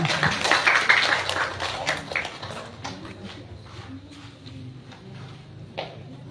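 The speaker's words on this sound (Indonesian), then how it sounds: "Beri tepuk tangan untuk peserta yang pertama." Audience at a children's Islamic preaching and Juz Amma memorization contest clapping for the first contestant, a brief burst that quickly thins to sparse scattered claps with faint murmuring and low room noise.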